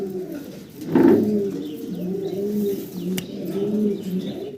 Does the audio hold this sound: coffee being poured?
no